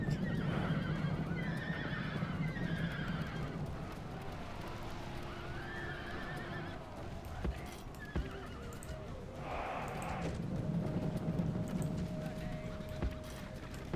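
Horses of mounted archer units in the Rome Total War strategy game neigh and whinny over a steady bed of galloping hooves and battle noise, the calls recurring across the scene at moderate loudness.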